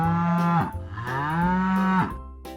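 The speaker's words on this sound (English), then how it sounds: "It's a cow" A cow moos loudly and close by, two long drawn-out lowing calls with a brief break between them.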